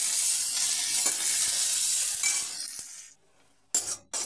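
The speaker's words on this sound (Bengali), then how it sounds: "তেলটা দিয়ে লঙ্কা আর পেঁয়াজটা আমি লাল করে নেব।" Chili and onion fry in a little oil in a wok, a loud crackling sizzle with occasional stirring clicks. It suddenly drops almost to silence near the end, then returns in short bursts.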